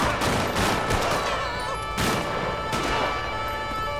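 Gunfire during a night police patrol in GTA 5 with the LSPDFR police mod: a loud, dense fusillade of shots rattles without pause for several seconds, close and heavy.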